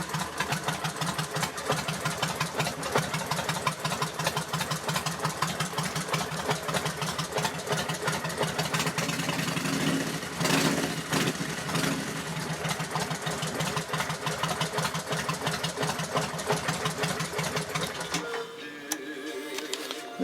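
A loud Kawasaki Vulcan 1500 motorcycle with a modified exhaust idles with a rough, pulsing rumble, briefly revving, then cuts off near the end.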